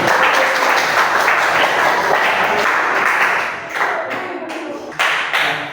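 Elementary schoolchildren applauding a first-place winner in a social studies class: loud, dense clapping close by that thins out into a few last separate claps.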